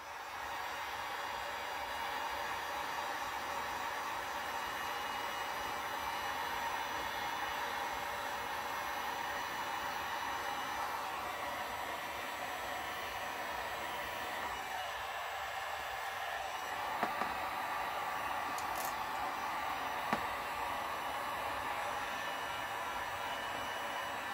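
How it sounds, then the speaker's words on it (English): A steady, hissing rush of hot air from a heat gun drones on continuously at moderate level, with a couple of faint clicks near the end. "So we're gonna heat gun it."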